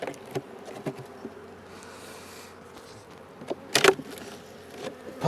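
Bees buzz faintly around an opened top hive box in a struggling apiary, a low drone with scattered clicks and a sharp knock near the end.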